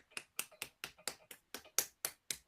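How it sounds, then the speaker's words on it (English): Gilligan claps his hands in a quick run of about ten sharp, evenly spaced claps, crisp and close, with no talking. "Gilligan claps at what he sees."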